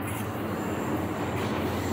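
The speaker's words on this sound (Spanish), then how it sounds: "Ahí está el tren." A train approaches slowly, heard as a steady low rumble with faint high squeals, constant and moderately distant, with no talk.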